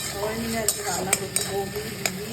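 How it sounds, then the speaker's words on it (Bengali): A spoon scrapes and stirs spices through leftover fried pieces in a hot kadai while cooking pabda fish, with a steady sizzle and several sharp clinks of utensil against the pan. "কড়াইয়ে যে বাকি ভাজাগুলো ছিল ওর মধ্যে মশলা দিয়ে এবার পাবদা মাছটা বানাবো"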